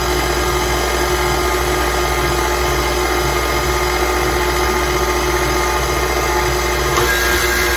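A stand mixer kneads Spanish bread dough, giving a steady, loud motor whir with a rough churning texture that runs unbroken from start to finish, with no one talking.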